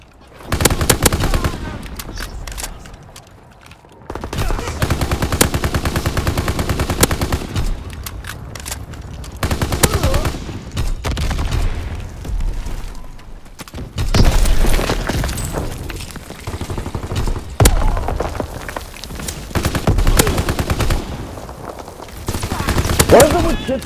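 Loud rapid Tommy gun bursts in a Call of Duty WWII ground war match, mixed with other gunfire and booming explosions in long dense volleys.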